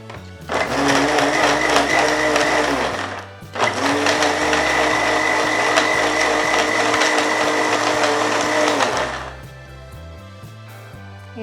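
An electric kitchen blender whirs through papaya and milk for a milkshake, running loud and close in two long continuous bursts separated by a brief pause, then cutting off.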